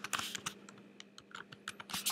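Rapid clicking keystrokes on a computer keyboard as a folder name is typed in, close and crisp in an irregular rhythm, with no talking.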